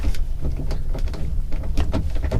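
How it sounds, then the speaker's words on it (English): The cab door of a Bobcat tractor with front end loader, engine off, opened with a series of sharp latch clicks and knocks. Close and distinct, spread across a couple of seconds. "open this door"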